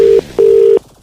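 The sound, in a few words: telephone dialing tones before a prank call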